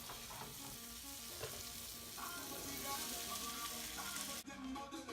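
Shrimp sizzle and fry in a very hot skillet, a continuous crackling hiss close by that cuts off sharply near the end.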